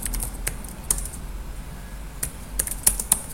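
Computer keyboard typing as a title is entered, with sparse, separate key clicks and a few quick double taps over a soft background hiss, fairly close.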